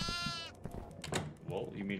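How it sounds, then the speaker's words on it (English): A goat bleats in the horror video game Devour, a quavering cry opening the moment before excited voices and game noises take over. "Who has food for the goat?"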